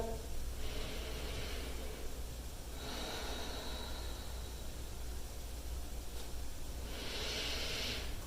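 Slow, deep yoga breaths during a vinyasa class come as three long airy inhale-exhale swells over a steady background hiss, close and soft, with no talking.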